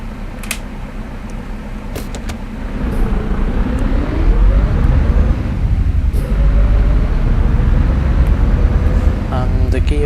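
Scania V8 truck engine in Euro Truck Simulator 2, a deep steady drone that climbs in pitch through the gears as the truck accelerates, with someone talking over it.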